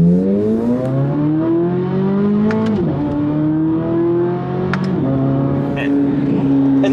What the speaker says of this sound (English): that was a gentle half throttle acceleration